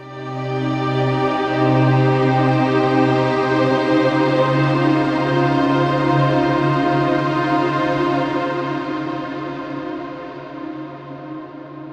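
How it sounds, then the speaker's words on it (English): A sustained string ensemble chord swells in, glowing with a shimmering, airy reverb that rises into a bright wash above it, then slowly fades. "changing the type to shimmer, which gives us this lovely kind of timbre shift into airy ambience"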